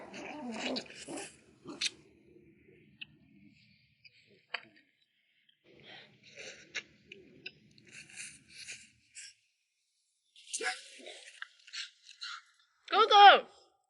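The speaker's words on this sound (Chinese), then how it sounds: "狗狗叫的哟" A dog barks and growls in short, scattered bursts amid a lively outdoor meal where people talk and chew on ostrich leg, ending with a louder, close yelp-like cry.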